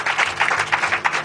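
A crowd applauds a speaker at a student integration day in Bambey, with steady, rhythmic clapping that holds at an even, moderate level.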